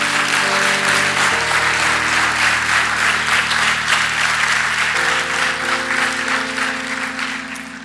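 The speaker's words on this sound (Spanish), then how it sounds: "Denle un aplauso al Señor." A church congregation claps loudly and continuously for nearly eight seconds, a dense wash of many hands under sustained organ or keyboard chords that shift midway, tapering slightly at the end.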